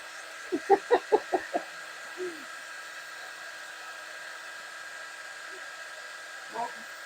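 Hair dryer blowing steadily up close to dry green paint on a Christmas floral box craft, a constant airy whoosh throughout with a few brief tapping knocks near the start and a soft voice or two underneath.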